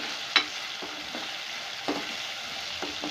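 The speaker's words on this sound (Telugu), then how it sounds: "వీటిని అన్నిటిని నూనెలో మంచిగా ఫ్రై చేసుకోండి." Chopped tomato and other ingredients fry in oil for a yogurt chutney curry, a constant sizzle punctuated by a few distinct scrapes and knocks of a stirring spoon on the pan, close and clear without speech.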